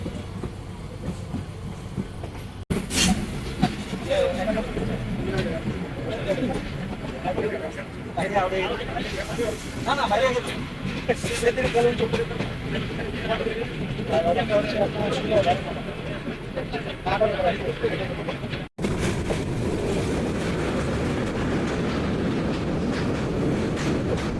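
Mohanogor Express, a meter-gauge train, departing Akhaura railway junction, with a steady rumble and clatter of rail cars close by and a brief sharp break near the end, under faint crowd babble.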